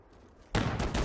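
A sudden loud explosion in a naval battle in the video game Holdfast: Nations At War, a sharp blast that bursts in after quiet and rumbles on with further cracking impacts.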